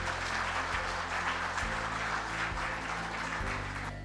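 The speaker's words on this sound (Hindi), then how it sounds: "एक बार जोरदार तालियां हो जाए आप सभी लोगों के लिए" An audience at a business presentation claps in a steady, dense burst of applause lasting a few seconds, fairly loud and continuous with no talk over it, tapering slightly at the end.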